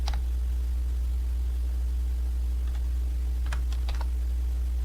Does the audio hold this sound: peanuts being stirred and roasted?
no